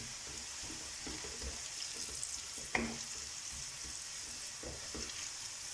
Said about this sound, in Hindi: थोड़ा सा हम और इसको ब्राउन कर लेंगे।